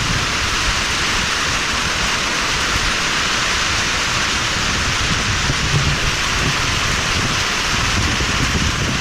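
Heavy rain pours down steadily in dense, loud broadband hiss, with wind gusting through the downpour and no voices.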